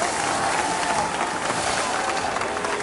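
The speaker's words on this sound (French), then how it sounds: "applaudis par les spectateurs amusés" Amused spectators applaud steadily beside an icy bobsleigh run, a dense continuous patter of clapping from a crowd at a winter sports venue, with faint voices mixed in.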